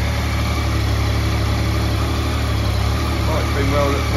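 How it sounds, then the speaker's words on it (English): A 2017 Yamaha MT-09 Tracer motorcycle engine in good condition idles steadily close by, a continuous low rumble with an even, unchanging throb throughout. "Engine sounds great."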